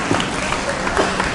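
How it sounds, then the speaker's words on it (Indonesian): An audience claps for Pak Puji at an event-industry survey presentation in a hall, a steady close wash of hand claps lasting the whole moment. "Bapak, tepuk tangan buat Pak Puji."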